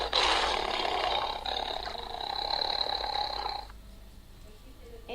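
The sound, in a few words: tiger roaring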